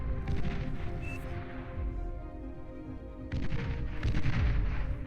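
Tier-two units in Beyond All Reason fire heavy weapons in rapid bursts, sharp cracks and booming volleys layered over a steady mechanical hum, growing denser and louder in the second half without any talk.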